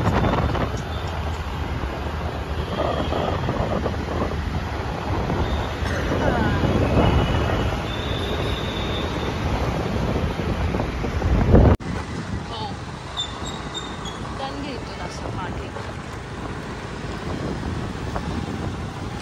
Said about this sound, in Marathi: असाच गाडी चालवतो आहे.